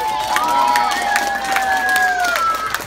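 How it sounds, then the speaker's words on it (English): Audience at a children's adventure theater show in San Ramon applauding and cheering, a steady crowd wash with shouts and excited voices rising over the clapping, moderately loud and close. "Let's send her off with a hero's round of applause."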